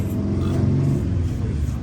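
A car rolls past with a steady low engine rumble, fairly loud and close, lasting under two seconds without any distinct rise or fade.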